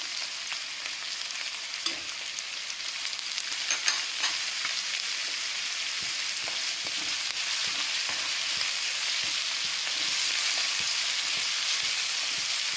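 Capsicum, carrot and green chillies are stir-fried for chowmein with a steady hiss of frying and frequent light spatula scrapes and tosses, near and even throughout, with no talking.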